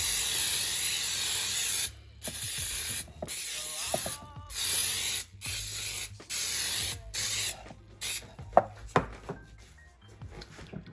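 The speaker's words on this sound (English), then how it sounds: "I'm going to spray with pan baking spray." A can of baking spray hisses onto a Bundt cake pan in several short and longer bursts, interrupted by pauses and clicks of the nozzle and light handling noises.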